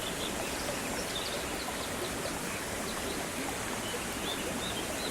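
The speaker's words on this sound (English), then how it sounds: "I hope you guys are enjoying the sound of the waterfall as much as I am." Flowing water and a waterfall in Zilker Botanical Garden make a constant close hiss and rush, with faint bird chirps scattered over it and no talking.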